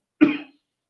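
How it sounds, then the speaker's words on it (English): A single short, sharp cough from a person, close and distinct, fading within a fraction of a second into silence. "oh, cough, cough, cough."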